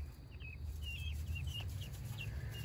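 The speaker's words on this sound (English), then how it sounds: "it's just your chickens from inside" Chickens clucking indoors, heard from outside: several short, faint calls scattered over a steady low background hum, none loud or close.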